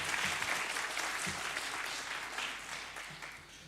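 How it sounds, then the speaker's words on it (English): Audience applause at a medical congress plenary session, steady clapping from a large hall sustained throughout before tapering slightly at the end. "you can clap."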